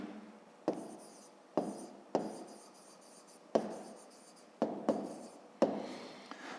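Handwriting with a pen or pencil on paper, with a series of distinct scratchy strokes and taps in irregular bursts, close and fairly quiet.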